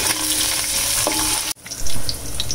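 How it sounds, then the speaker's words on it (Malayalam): Beef with coconut pieces and curry leaves frying loudly in a pan while being stirred, a steady close sizzle with a brief drop partway before the crackle resumes. "ഇത് നന്നായിട്ട് ഇളക്കി കൊടുക്കാം."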